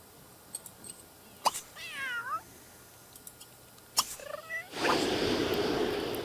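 Cat meowing in The Sims 3 game: two distinct, wavering meows a couple of seconds apart, followed by a burst of broadband noise near the end, with no talk.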